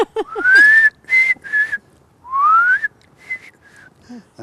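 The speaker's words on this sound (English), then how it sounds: "You like our whistling?" A person whistles a tune in a quiet backyard, producing clear, bright phrases of rising and held notes separated by short pauses.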